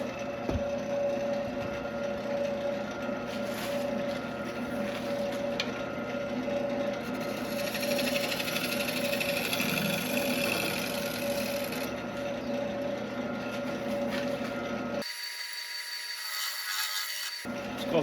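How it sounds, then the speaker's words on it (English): A scraper tool shear scrapes a cherry wood bowl spinning on a lathe, giving a steady close rasping hum over the motor drone, then cutting off abruptly near the end before a brief return, with no talk. "It's called shear scraping."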